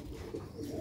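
Black-faced Sheikh-type fancy pigeons cooing in a close, continuous low murmur, soft throaty coos rising and falling with no talk over them.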